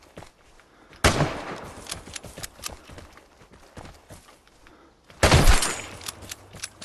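Two loud bursts of video game gunfire, the first around a second in and the second near the end, with fainter sharp shots and clicks scattered between them; no talk.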